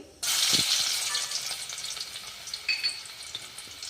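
Garlic drops into hot oil with cumin and mustard seeds and bursts into a loud, close crackling sizzle that gradually settles into steady frying with scattered pops.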